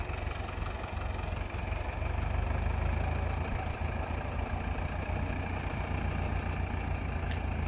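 A tractor engine labors hard while climbing a slope of piled soil and its tires slip. A loud, steady low rumble runs unbroken for the whole stretch, with no voices.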